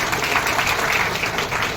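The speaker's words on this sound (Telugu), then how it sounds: "ఒక్కసారి మీకు వచ్చి గట్టిగా చప్పట్లో పట్టండి" A group of women municipal workers applauding loudly, dense steady clapping filling the whole short stretch, with faint voices underneath.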